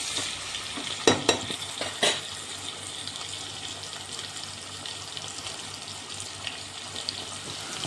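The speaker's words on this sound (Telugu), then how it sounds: "ఉల్లిపాయలు, పచ్చిమిర్చి కొంచెం ఎర్రగా వేగాలి, అప్పటిదాకా ఫ్రై చేసుకుందాం." Onions and green chillies frying in a pan for an aloo capsicum curry: a soft steady sizzle throughout with a few sharp stirring clatters early on, and no talk.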